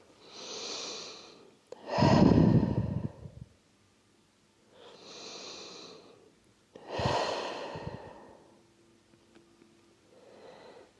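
Slow deep breaths during a yin yoga session, each long inhale and exhale close and clear, several full cycles with quiet pauses between them.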